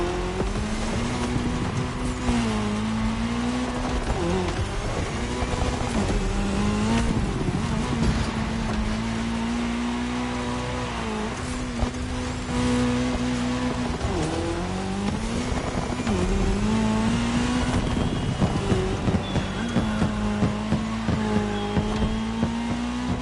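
Race cars roar through a cross-terrain race on tarmac in The Crew Motorfest, engines loud and close for the whole stretch, pitch climbing and dropping with each gear change, with occasional tire squeal and no voices.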